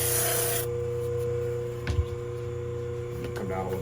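A grinder works Formthotics orthotic material for shaping a neutral heel, giving a steady, close, loud abrasive whir after a brief louder start, with faint talking over it.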